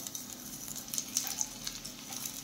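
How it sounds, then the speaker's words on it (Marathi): Poha cutlets shallow-fry in a pan with a soft, continuous sizzle and faint scattered crackles, fairly quiet and steady throughout. "खालची बाजू छान फ्राय झाली की आपण ती पलटून घेऊयात।"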